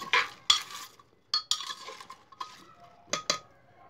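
Clinks and scrapes of a spoon stirring spices into half a glass of water for pav bhaji, several sharp taps with gentle swishing between them, close and alone.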